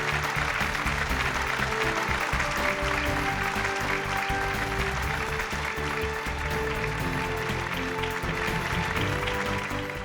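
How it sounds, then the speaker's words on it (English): Sustained applause from an audience at a renewable energy awards ceremony for a winning hydro developer, steady and dense throughout with a faint background hum and music-like tones. "Huge round of applause for the Pashim Group"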